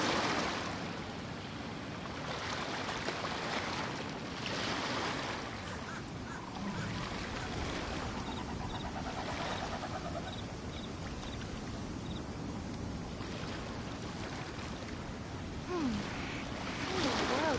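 Ocean waves in the Genshin Impact video game, a continuous broad wash of surf swelling and receding steadily throughout, with faint chimes and other game sounds scattered over it.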